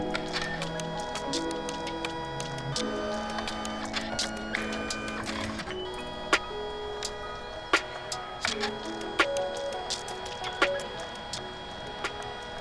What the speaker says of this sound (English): While we wait for that to finish printing